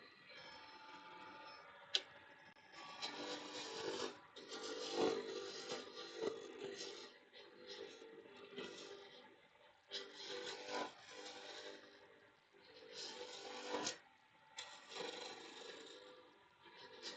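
Wood being carved with a roughing gouge: repeated scraping, rubbing strokes in uneven bursts with short pauses, quiet and close, with occasional sharp knocks.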